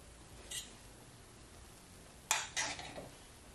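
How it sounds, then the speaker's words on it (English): A fork rakes through cooked vegetable rice in a pot, giving a faint scrape early, then a sharper metal clink followed by a few short scraping strokes, close up and with no talk. "So I'm just gonna take my fork and just rake it up."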